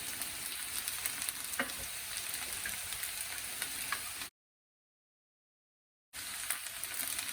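Sabudana khichdi with powdered peanuts, sugar and lemon juice being stirred in a frying pan, a steady close sizzle with light scraping, broken by a brief silent gap before the frying resumes.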